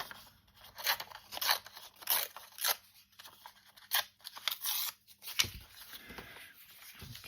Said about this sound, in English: Here's a piece of music that I will rip off.